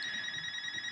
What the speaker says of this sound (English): Excuse the phone ringing.